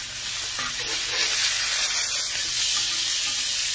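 Steak sizzles loudly in a pan with butter, thyme and rosemary just after being flipped, a steady close frying hiss with a faint stirring or scraping underneath.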